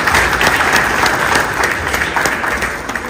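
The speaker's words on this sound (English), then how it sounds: "Can we have a big round of applause for Reverend Father?" Steady audience applause fills a hall at a global convention, a dense wash of many hands clapping, loud and sustained with no speech over it.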